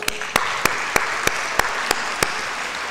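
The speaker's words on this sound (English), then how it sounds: "One more round of applause for the board." Close, steady applause for the board at a mosque fundraiser, with one clapper's sharp, evenly spaced claps standing out above the crowd throughout.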